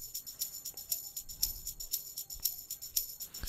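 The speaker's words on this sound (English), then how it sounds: "a tambourine shaker" Tambourine shaker loop for a Nigerian Amapiano beat: crisp, high jingly hits repeating in a steady, even groove, close and clear with a faint low thump underneath, no voices.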